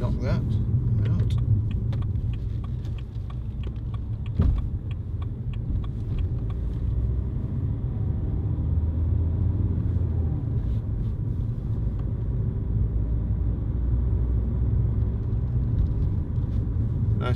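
Inside a BMW 1 Series 123d SE five-door with a 2.0 diesel engine, the car drives along with a steady, low, droning cabin rumble of engine and road noise that barely changes throughout.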